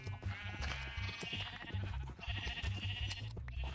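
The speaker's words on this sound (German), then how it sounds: "Oh mein Gott, sind das zu viele Schafe." A crowded pen of sheep in Minecraft bleats over and over, many overlapping calls forming a dense, continuous chorus at moderate volume, with no talking.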